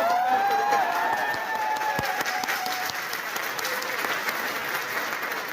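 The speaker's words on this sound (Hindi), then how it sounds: "वेस्टीज के लिए दिल से जोरदार तालियां हो" Loud, sustained applause from an audience at a motivational success-story event, dense continuous clapping with a few whistles or cheers rising over it early on.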